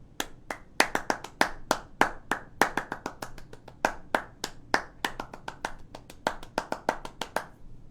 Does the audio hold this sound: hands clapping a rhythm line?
yes